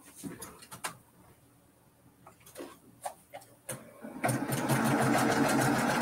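A sewing machine stitches pieces of a star quilt block, starting with a few clicks and ticks, then running steadily and loudly for the final couple of seconds.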